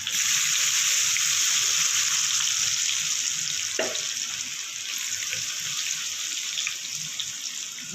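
Onions frying in oil with chilli powder, cinnamon and cardamom for biryani make a loud, continuous close hiss, steady and dense with faint crackles.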